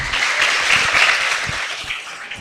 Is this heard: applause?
yes